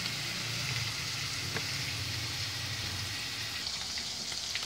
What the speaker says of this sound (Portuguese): Estou fritando aqui o aipim.